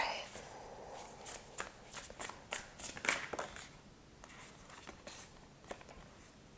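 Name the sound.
shuffling a deck of cards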